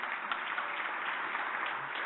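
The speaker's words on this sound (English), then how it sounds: "I think she deserves a round of applause" Audience applause at a conference spotlight stage, a soft, continuous patter of many hands clapping, heard faint and muffled throughout.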